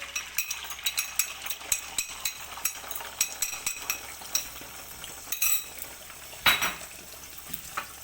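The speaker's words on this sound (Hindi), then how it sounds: "ये अब हम इसे पैन में डाल देंगे।" Egg fried rice ingredients tumble into a hot pan and sizzle, with a steady series of spatula stirs and scrapes and occasional metallic clinks, close and with no talking.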